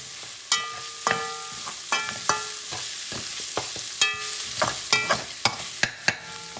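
A spoon is stirred through a Puerto Rican chicken asopao soup base in a pot, giving a dozen or so sharp metallic clinks and scrapes at an uneven rhythm over a low sizzle, close up with no voices.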